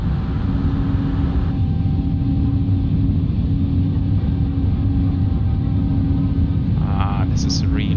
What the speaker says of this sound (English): I really love the engine sound. It really sounds like Rolls-Royce engine sound.